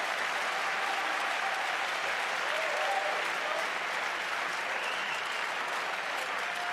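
A tennis crowd applauds after a rally, with steady, dense clapping that fills the whole stretch at an even level, heard from within the stands.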